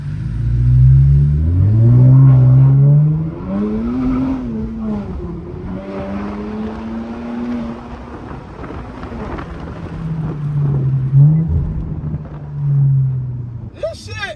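An Infiniti Q50 with a muffler delete and turbos revs loudly up and down in rising and falling sweeps, with voices talking over the engine.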